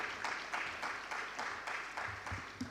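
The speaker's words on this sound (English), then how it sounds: "Please, once again, a round of applause" Faint, scattered applause from an audience at a formal event for speaker Mr. Tunji Ashaulo, coming in rhythmic pulses of clapping that stay steady and distant throughout.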